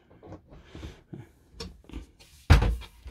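A deep storage drawer in a Mercedes Carthago C Tourer i150QB motorhome is pushed shut with one solid, loud thunk, after faint handling rustles and knocks nearby.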